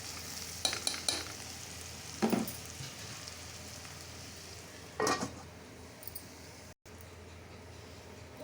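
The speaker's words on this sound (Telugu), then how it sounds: "కాస్త ఏగనిద్దాం. కొంచెం ఎర్రగా ఏగితే ఇంకా టేస్ట్గా ఉంటుంది." Onions fry in a pan for egg curry, with a steady close sizzle running throughout, broken by occasional scrapes and clinks of a spatula stirring against the pan.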